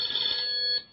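A telephone gives a brief high electronic ring of under a second, fairly faint and cutting off abruptly, with no voices.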